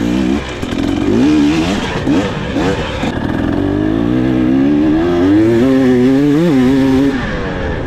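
A TBI two-stroke dirt bike revs loudly up close on a ride, its engine note rising and falling in waves through the whole stretch, with a voice talking over it.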